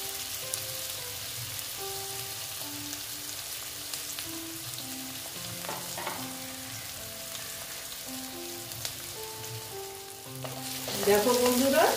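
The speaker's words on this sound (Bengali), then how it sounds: "রসুন আর আদা তো মোটামুটি ভাজা হয়েই গেছে, এবার পেঁয়াজটাকে আমি ভেজে নিচ্ছি" Onions frying in a pan with garlic and ginger already browned, a continuous close hiss and crackle running throughout, swelling louder and spattering near the end; no talking.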